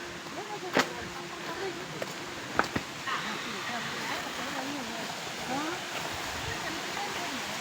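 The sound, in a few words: waterfall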